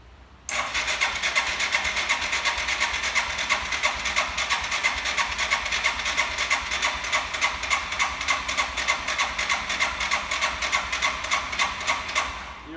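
A small carbureted engine in a one-day shop build catches after the choke is pulled, then runs at a fast, steady, rattling idle, loud and close, for about twelve seconds.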